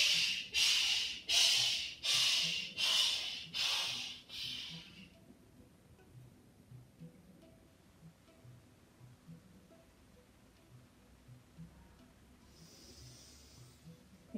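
Six rapid, forceful breaths in a steady rhythm during a throat chakra (Vishuddha) breathing exercise, close and loud, followed by near silence with only a faint low background hum and a soft hiss near the end.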